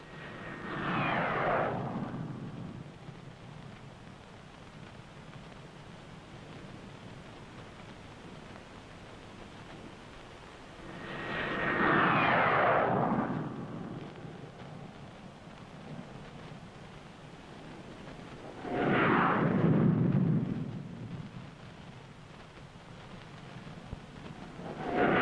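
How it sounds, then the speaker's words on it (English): English Electric Canberra jet bombers roar past during a 1955 air display at Kingston, three distant swelling passes that build and fade over a steady low background rumble. "we showed them what the Canberras could do by giving them one of the noisiest half hours in their lives"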